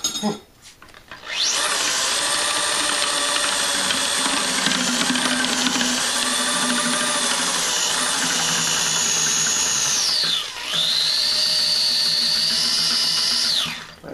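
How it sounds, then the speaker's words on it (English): Chocolate raspberry port wine is stirred steadily during the clearing stage, producing a close, continuous whirring drone with a rising and falling pitch that dips briefly near the end before cutting off. "so I'm going to be stirring this for like another five minutes"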